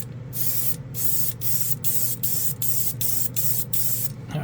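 A DragonAir airbrush lays down a dark green paint coat in a steady, continuous close hiss, broken by about nine brief regular pauses as the trigger is released and pressed again.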